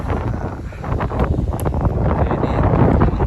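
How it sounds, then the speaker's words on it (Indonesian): Strong wind buffets a microphone on the open deck of the passenger ship KM Dharma Rucitra 8 at sea, a steady loud roar and rumble filling the whole stretch with no talking. "angin sangat kencang sekali hari ini di atas KM Dharma Rucitra 8"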